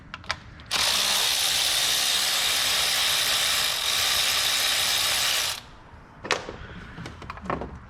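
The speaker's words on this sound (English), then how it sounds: "next we're gonna go ahead and remove our two 10mm bolts" A power ratchet whirs steadily for about five seconds removing 10mm thermostat bolts on a Chrysler 300 3.6 engine, followed by a few light metallic clicks and handling noises.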